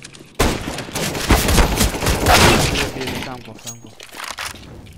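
Rapid bursts of gunfire in a Counter-Strike: Global Offensive competitive match, a dense barrage of loud, sharp shots with a brief break and a few more shots near the end, while players talk excitedly over it.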